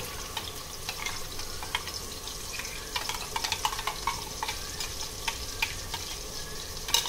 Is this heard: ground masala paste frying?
yes